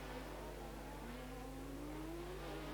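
A 1988 International Formula 3000 race car accelerates hard out of a corner on the Pau street circuit, its engine note rising steadily in pitch as the throttle is floored, loud and sustained over a constant background drone.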